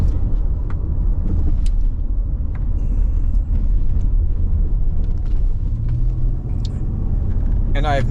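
A Dodge Caravan van is driven after a no-start fault traced to the air filter, giving a loud, steady low road rumble heard from inside the cabin, with a person talking over it.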